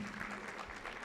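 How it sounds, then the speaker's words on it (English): Brief, fairly faint applause from the audience at a girls' school alumni breakfast meeting, a short patter of clapping hands without voices. "A round of applause once again."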